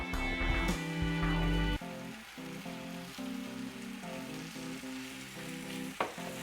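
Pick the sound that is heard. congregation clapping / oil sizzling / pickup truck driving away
oil sizzling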